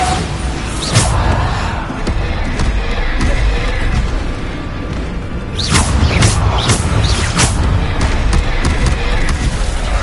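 Bombarda blasting spells exploding in a Hogwarts video game, with several sharp booming bursts over a dense, loud wash of game noise and music, no talk.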